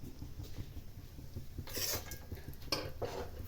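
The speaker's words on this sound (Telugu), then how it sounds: "కంప్లీట్గా రోస్ట్ చేస్తూనే తిప్పుతూనే ఉండాలన్నమాట, లేకపోతే అడుగంటుతాయి ఇవి" Mixed dry fruits roasting in ghee in a pan for homemade laddu, with a spoon stirring and scraping against the metal in soft, steady strokes and a few brighter clinks, heard close and fairly quiet.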